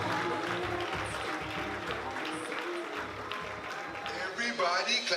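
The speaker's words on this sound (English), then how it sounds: "Let's give a round of applause for Harry and his mother tonight." Wedding guests applaud in a steady, dense patter of clapping that carries through the whole moment, with a few voices and cheers rising over it near the end.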